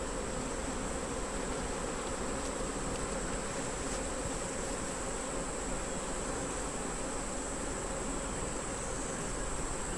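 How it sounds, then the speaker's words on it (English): A swarm of honeybees in a tree above a beehive during an inspection, buzzing as a dense, steady, quiet hum with no break, and nobody talking. "There's a lot of bees up there."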